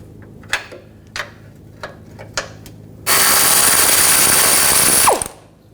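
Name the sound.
wrench and socket removing nut and bolt on BMW X5 control arm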